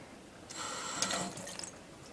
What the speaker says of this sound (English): run it under some cold water